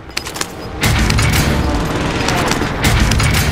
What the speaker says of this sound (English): Painting targets. Airstrikes a go. This is Phoenix 3. Strike inbound.